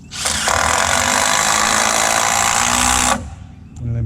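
A power drill drives a 3.5 inch screw into timber while a post and beam barn kit is built: one loud, steady whine lasting about three seconds, then it stops, with faint talk afterwards.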